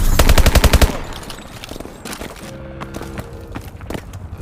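Rapid submachine gun bursts in the Call of Duty Advanced Warfare game, a loud close volley of quick shots, followed by scattered distant gunfire and battle noise.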